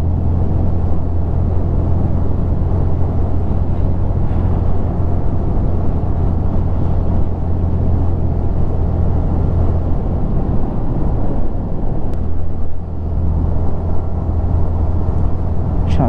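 A vehicle engine laboring in fifth gear at high altitude, a steady low drone with broadband road and wind roar throughout, dipping briefly near the end before resuming.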